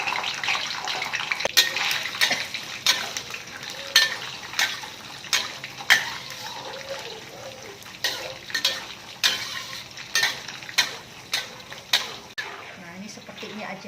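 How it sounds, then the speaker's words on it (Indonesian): Peanuts fry in hot oil in a wok (kuali), giving a steady crackling sizzle with repeated sharp scraping and clinking strokes of a stirring utensil against the pan, close up and fairly loud, with no talk. "Ini sudah panas. Kita goreng dulu untuk kacangnya ya."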